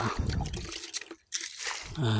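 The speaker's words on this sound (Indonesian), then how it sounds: "Ini kita siram-siram dulu sahabat." Organic liquid fertilizer is poured over grape vines in polybags and a raised bed, a close splashing trickle into soil while someone talks over it.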